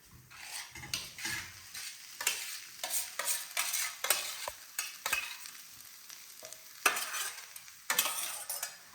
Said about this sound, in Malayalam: അപ്പോൾ ഈ മസാലേൻ്റെ ഒപ്പം ഈ സോയാബീൻ നന്നായിട്ട് യോജിപ്പിച്ച് കൊടുക്കാം